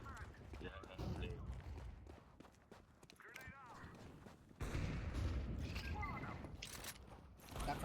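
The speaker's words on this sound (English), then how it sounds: "That's a flashbang." A flashbang grenade goes off in a video game, a sudden broad burst partway through that lingers as a wash of noise over quieter background game sounds.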